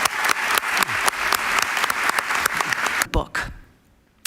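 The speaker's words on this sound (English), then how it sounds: "Give her a really warm round of applause." Warm applause from a lecture audience welcoming a law professor, a steady wash of many hands clapping that swells briefly and then tapers off into near silence at the end.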